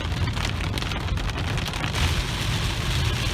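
Heavy monsoon rain pours down during a severe thunderstorm in Victorville and Lucerne Valley, California. The downpour is a loud, steady hiss that never lets up, with no voices.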